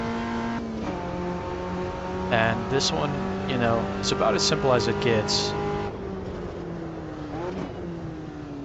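Race cars lapping a simple track in the Automobilista 2 racing game, engines droning steadily with rising and falling revs as cars pass, heard under continuous talking.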